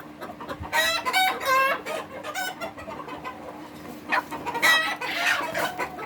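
Fayoumi chickens cluck and squawk in bursts, close by, with a rooster-like call rising near the end over a steady background hum.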